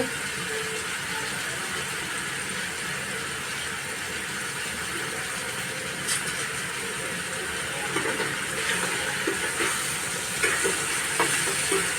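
Tomatoes with Malvani masala and salt stir-fried in oil, a steady low sizzle filling the background with occasional faint scrapes of a spoon, fairly quiet and uninterrupted.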